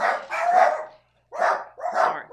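Dogs bark in a few short bursts, a couple of quick yaps, a pause, then two more, fairly close and clear with no talk over them.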